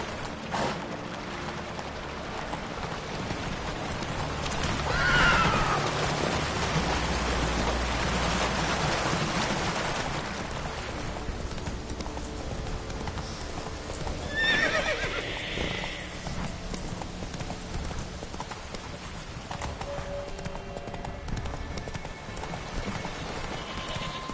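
A horse named Roach gallops with steady clip-clop hoofbeats and lets out loud neighs, with a rain-like hiss underneath throughout.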